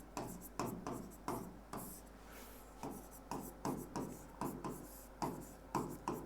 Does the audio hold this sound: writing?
yes